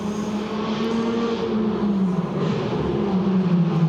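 Race cars roar past on the main straight of the Vila Real street circuit, a loud continuous engine drone with rising and falling pitch as each car sweeps by, no talking.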